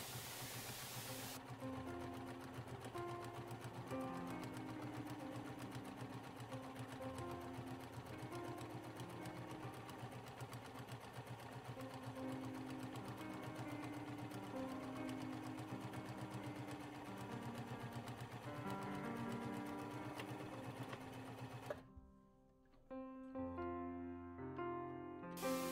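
A sewing machine stitches an 1860s corset along marked lines, a fast even mechanical whirr running steadily for about twenty seconds, then stopping abruptly before a few quieter clicks and a brief restart.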